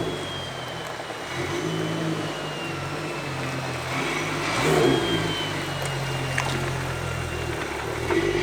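Built N54 BMW 335i under acceleration, a steady engine drone heard from inside the car with a brief swell in revs midway, moderately loud and continuous.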